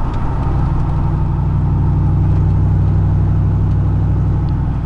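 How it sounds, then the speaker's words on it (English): A four-wheel-drive truck with a dumped exhaust and small-diameter pipes idles loud and close, a steady, deep, lumpy drone holding throughout without revving. "His exhaust is just like mine, except his is dumped."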